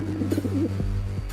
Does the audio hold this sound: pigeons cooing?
yes